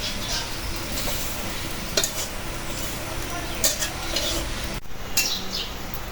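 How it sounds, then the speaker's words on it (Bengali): Grated coconut frying in a pan while being stirred, giving a soft steady sizzle broken by scraping spoon strokes and a few metallic clinks against the pan, with faint background sounds. "নারকেলটা ভাজা হয়ে গেছে"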